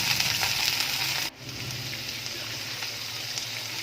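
String beans sizzle steadily in a hot pan for adobong sitaw, a dense continuous frying hiss that dips briefly, then carries on, with no voices.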